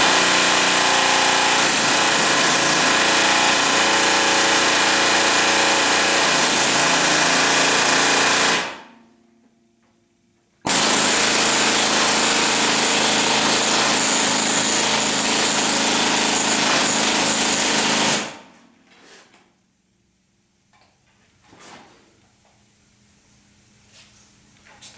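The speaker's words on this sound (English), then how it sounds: "it keeps the air hammer centered on the stud that I'm trying to drive out" Loud, continuous pneumatic hammering as an air hammer drives out a stud while removing the steering ram on a 1976 Corvette, in two long sustained bursts separated by a brief pause, then quiet with faint clanks.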